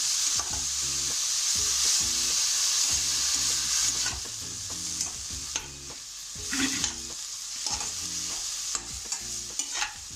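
Egg bhurji with vegetables and dill leaves frying in oil, a bright continuous sizzle broken by repeated stirring scrapes and knocks of a spoon against the pan, close and busy.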